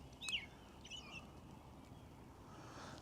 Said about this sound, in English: Birds singing again. Yep, I hear them.